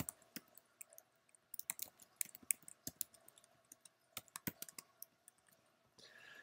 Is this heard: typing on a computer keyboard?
yes